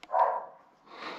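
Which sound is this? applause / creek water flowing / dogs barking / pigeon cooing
dogs barking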